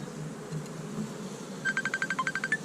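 Honey bees buzz around an opened hive during a spring hive inspection, a steady low drone with a nearby bee's pulsing, wingbeat-like buzz coming close near the end.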